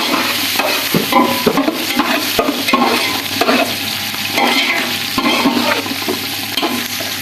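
Chopped green chillies frying with browned onions in a pan, a loud, close, continuous sizzle broken by rhythmic stirring and scraping strokes, with no talking.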